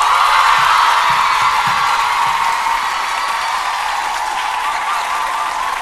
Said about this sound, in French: il y a un super public de scouts à ma droite, mais incroyable dans leurs applaudissements,